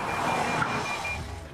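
Warning beeps from a Lexus safety system, a soft electronic tone sounding steadily under a low hum of road noise, fairly quiet and continuous for a brief moment.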